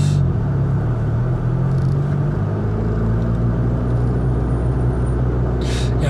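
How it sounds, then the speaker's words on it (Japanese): Honda Civic Type R FK2 creeping along at about 15 km/h in slow traffic, a steady low engine and road rumble filling the cabin without letting up. "今ずっとね15キロぐらいで走ってます よ。"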